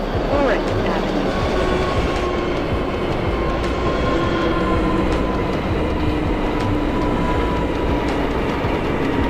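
A subway train in the OpenBVE simulator game, running local toward Brooklyn, gives a continuous loud rumbling roar with faint rail clatter and a few tonal whines, steady and close throughout.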